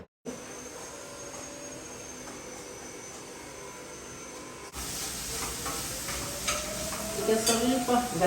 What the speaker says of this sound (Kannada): ರವೆ ಹುರ್ಕೊಳ್ಳೋದಿಕ್ಕೆ ಇದು ಪರಿಮಳ ಬರುವವರೆಗೆ ಹುರ್ಕೋಬೇಕು